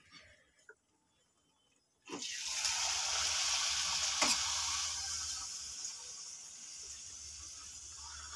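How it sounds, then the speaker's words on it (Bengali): Luchi dropped into hot oil in a wok: after a quiet stretch with a few faint knocks, a sudden loud hissing sizzle bursts in and carries on steadily, fading slightly toward the end. "আর এইদিকে লুচি ভাজবো। এই যে তেল দিয়ে দিয়েছি কড়াইতে,"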